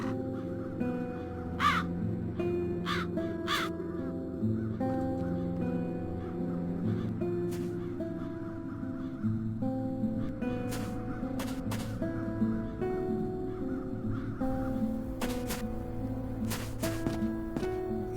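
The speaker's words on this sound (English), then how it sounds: "Those peculiar crows." Repeated harsh crow caws in the video game The Dark Eye: Chains of Satinav, several birds calling at irregular intervals over a layered background of tonal music.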